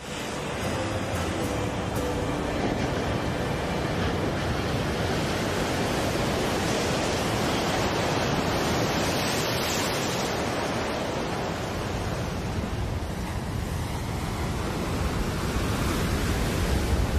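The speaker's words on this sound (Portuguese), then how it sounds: "O oceano aqui é rico em vida por causa da gélida corrente de Benguela, que corre pela costa" Ocean surf breaks steadily on the Namibe desert coast in Namibia, where the cold Benguela current runs, as a loud, unbroken broadband wash with wind and no pauses throughout.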